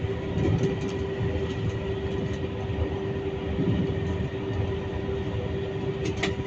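A Z2N regional train on the Les Arcs–Draguignan to Nice line is heard from the driver's cab, a continuous rolling rumble with a steady hum and faint wheel clicks.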